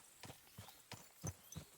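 Horse hooves clip-clop in the video game Kingdom Come Deliverance 2, five or six evenly spaced, soft thuds at walking pace. The steps are faint, with no voices over them.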